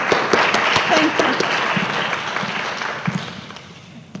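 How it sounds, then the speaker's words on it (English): An audience at a panel discussion on home internet and device safety applauds steadily, many hands clapping together, the sound gradually thinning out toward the end with a voice briefly heard. "let's give them a round of applause for being here"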